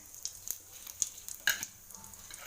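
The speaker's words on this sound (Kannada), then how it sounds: "ಸಾಸಿವೆ ಸಿಡಿದ್ವಿ ಸ್ವಲ್ಪ ಓಕೆ ಇವಾಗ ಜೀರಿಗೆ ತಗೊಂಡು ಸ್ವಲ್ಪ ಜೀರಿಗೆ" Mustard seeds and cumin crackle in hot oil, giving a soft, close sizzle broken by a few sharp pops over a couple of seconds.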